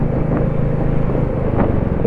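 Royal Enfield Himalayan motorcycle riding along a road, a steady loud low engine rumble with wind noise running continuously throughout, no voices.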